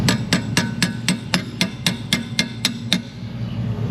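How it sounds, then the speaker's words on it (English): A quality gear wrench used as a hammer on car strut suspension bolts in a wheel well, about a dozen sharp metallic blows in a steady rapid rhythm, loud and close. "A wrench can be a hammer, especially a quality gear wrench like this one."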